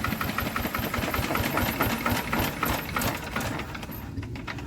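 An old Enfield diesel engine runs after a cold start, a fast, even mechanical chugging and knocking at close range that holds steady throughout.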